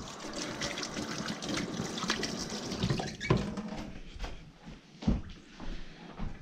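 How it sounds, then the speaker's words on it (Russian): Hands are washed under a running kitchen tap while cooking dinner, a continuous splashing stream of water with irregular surges and spatters as the hands move through it. "Моем руки."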